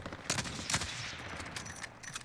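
Gunfire rattles in the video game Call of Duty: Warzone, a few quick bursts of shots at a moderate distance, with no voices.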